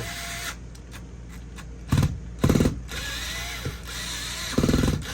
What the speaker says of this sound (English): I'm going to over drill